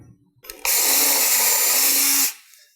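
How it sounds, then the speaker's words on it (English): A power drill bores through a Ford F150's steel frame, starting up and whining steadily at high speed for under two seconds, then spinning down, loud and close with nothing else heard. "So drilling through the frame here is extremely easy."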